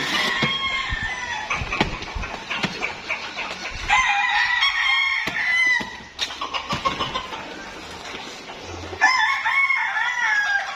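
A gamefowl rooster of the Perfection Round Head breed crows repeatedly on a game farm, loud and close, several long strained calls in a row with some clucking and farmyard noise between them.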